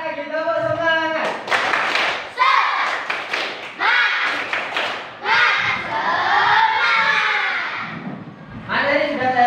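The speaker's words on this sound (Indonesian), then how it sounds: "Sekali lagi tepuk semangat." A classroom of students doing rhythmic spirit clapping, with loud bursts of clapped beats and chanted, shouted voices in quick repeated phrases, close and energetic.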